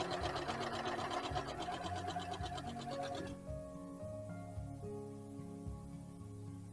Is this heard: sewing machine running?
yes